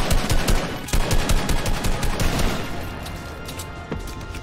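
Assault rifle fire in the Fortnite video game: loud, rapid bursts of automatic shots crackling one after another, with no talking over them.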